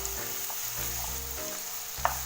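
Two thinly sliced medium onions frying in a pan make a continuous sizzle and hiss up close, with faint stirring scrapes and one sharp utensil tap near the end, heard without talk.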